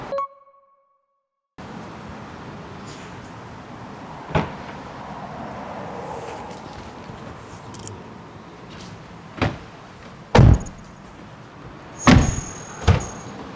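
A 2024 Jeep Wrangler door is handled after a quiet start, with a steady hum of surroundings and several sharp clunks and latch knocks, the loudest near the end.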